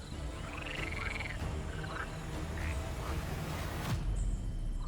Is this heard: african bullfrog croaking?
yes